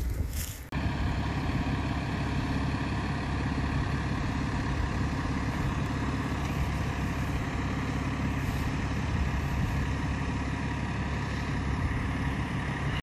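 The diesel engine of a farm truck and tractor rig hauling slurry idles steadily, a constant low rumble heard from outside, with a brief knock at the start and no talking.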